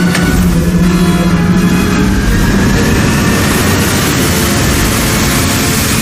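Hovercraft engines start up in the James Bond 007: Blood Stone video game, a loud, steady low roar and rumble that fills the whole stretch without a break.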